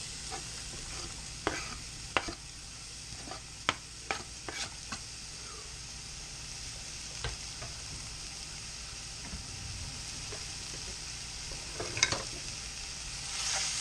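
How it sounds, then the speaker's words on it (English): Onions fry in olive oil in a pan for marinara sauce: a soft, steady sizzle sits under scattered clicks and scrapes from stirring, fairly quiet and close, with no talk. "Now we're going to cook these onions for 2-3 minutes"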